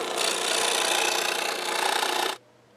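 A hand saw cuts out a shield piece for a Hylian Shield cosplay prop, giving a steady, close rasping stroke that runs continuously for over two seconds and then stops abruptly.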